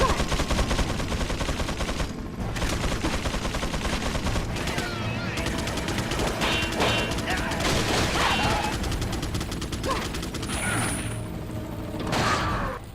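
Resident Evil game audio carries rapid bursts of machine gun fire alongside clattering mechanical clicks and game sounds. The mix stays dense and loud throughout, with a voice briefly audible underneath.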